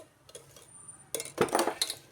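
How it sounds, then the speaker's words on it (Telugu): A thick, heavy cooking pot handled on a stove while making goat head curry, a few metallic clanks and knocks, close and fairly loud, no talk. "ఇలా మందపాటి, కొంచెం మందంగా ఉండే గిన్నెని తీసుకుందాం"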